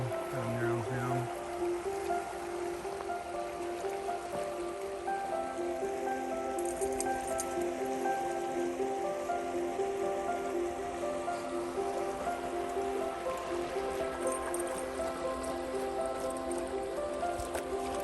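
Creek water flowing steadily around an island, a continuous close babble and trickle with a faint hum underneath throughout.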